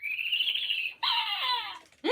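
Interactive Hedwig owl toy by Spin Master giving electronic hoots, two bright synthetic calls close up, each sliding in pitch, with a third starting at the end.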